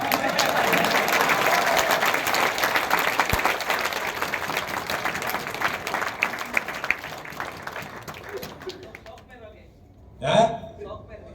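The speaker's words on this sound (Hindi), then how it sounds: "ताली अच्छे से बजा।" Audience clapping at a business presentation, a sustained crowd applause that gradually fades over about nine seconds, followed by a brief louder burst of other sound near the end.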